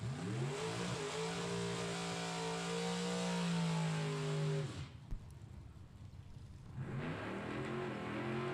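Pickup truck engines rev loudly at a drag race, a steady rising roar that cuts out abruptly, leaves a brief noisy gap, then the engine roar builds again.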